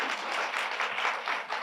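Audience applause in a black box theatre during an arts symposium, a dense, steady wash of clapping from a crowd filling the whole short stretch without pause.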